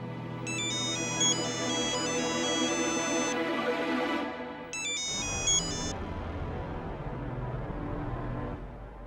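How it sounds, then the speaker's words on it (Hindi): A phone ringtone plays loud, repeated bursts of bright electronic beeping over a low background hum, pausing briefly before one more burst. "फोन उठाओ बेटा।"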